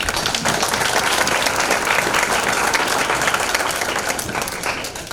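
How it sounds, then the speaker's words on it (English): A hall of fame recognition audience claps in dense, sustained applause, loud and steady throughout, easing slightly toward the end. "Let's give them a big round of applause."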